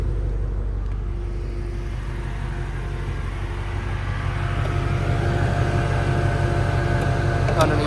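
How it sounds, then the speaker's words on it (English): Deep, steady rumble from the Voodoo V8 exhaust of a 2019 Ford Mustang Shelby GT350, droning continuously and rising slightly in loudness, heard up close with no one talking. "that really nice throaty sound coming from the Voodoo V8."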